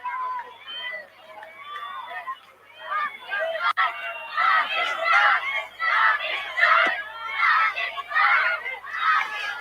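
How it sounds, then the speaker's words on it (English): Crowd at a Test cricket match between Pakistan and Bangladesh, heard as a distant, continuous swell of cheering and shouting from the stands, rising and falling in waves, with no clear commentary on top. "Good crowd there in the background"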